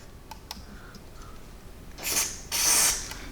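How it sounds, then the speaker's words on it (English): Two short bursts of hissing contact cleaner spray near the end, following a few faint clicks of a control being turned on an old radio under restoration, in an otherwise quiet space. "we're gonna put a quick spray of deoxid in here"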